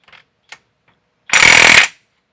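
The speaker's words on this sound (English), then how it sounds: "we'll tighten it up with our impact before installing our cotter pin." A pneumatic impact wrench tightens a castle nut on the axle of a CFMOTO UForce U10 Pro side-by-side, a few faint clicks followed by one loud half-second burst of rapid hammering up close.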